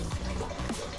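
Water runs from a kitchen tap in a steady, broadband wash at close range, with small splashy bursts along the way and no voices.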